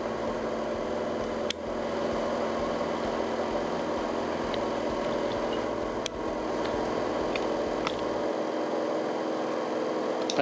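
A Samsung washing machine spins at up to 1400 rpm, a steady droning hum with a constant whine, a few faint clicks and knocks, and a drop in low rumble near the end.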